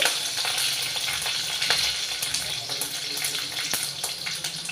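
Green chillies and dried red chillies frying in a pan, a loud, continuous crackling hiss close up with small sharp pops throughout and no voices.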